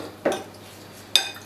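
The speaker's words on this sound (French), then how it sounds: "On mélange comme ça" A Tunisian salad is mixed in a bowl, giving two short clinks of a utensil against the dish, close and separated by a quiet gap, with no speech.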